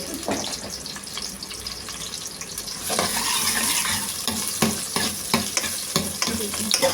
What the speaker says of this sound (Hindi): तो प्याज को हम पकाते हैं